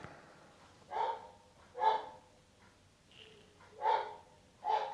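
A dog named Jimmy barks repeatedly indoors, five or so sharp, fairly close barks in an irregular rhythm over a low background hum.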